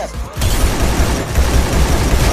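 Gunfire in a sniper shooter video game, loud dense continuous shooting and booms filling the whole moment, with no clear speech over it.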